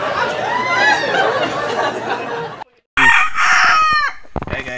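Chickens cluck and a rooster crows loudly and close by, followed after a short break by more crowing and agitated clucking.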